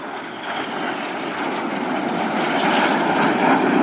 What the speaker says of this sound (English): red 6 and 7 flying inverted close formation